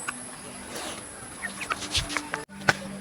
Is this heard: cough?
no